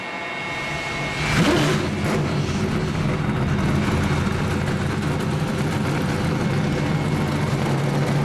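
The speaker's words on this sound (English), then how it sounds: "Drivers, start your engines." NASCAR Truck Series engines fire up at Talladega in 2009: after a brief lull, a sudden burst of engines catches, then a loud, sustained rumble of many idling and revving trucks fills the air.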